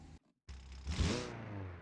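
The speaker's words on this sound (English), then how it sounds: "This engine sounds a lot more desirable, and also idles at a much more normal RPM." A 116-horsepower car engine in a video game idles with a steady low rumble, picking up briefly into a fuller, louder hum before settling, after a short moment of silence at the start.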